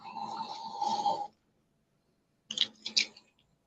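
Two rough, rasping snores close to the mic, separated by a second of silence, the second broken into short snorting bursts.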